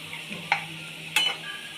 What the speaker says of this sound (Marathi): खरपूस एकदम तळून घ्यायचं